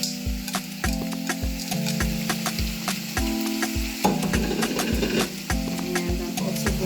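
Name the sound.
shredded saltfish being added to a pot and stirred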